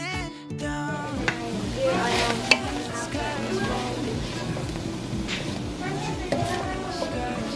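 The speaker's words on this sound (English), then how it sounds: "I just love the sound of grilled onions" Onions sizzling on a hot pan for dinner, a steady loud crackle and hiss with occasional stirring clinks and scrapes close by, over faint background music.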